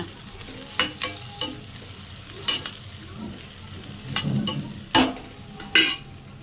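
Sliced big onions are sautéed in a pan with a pinch of salt for a Chettinad-style quail egg pepper gravy. A constant sizzle carries repeated clear spatula scrapes and clinks, spaced unevenly across several seconds, with no speech.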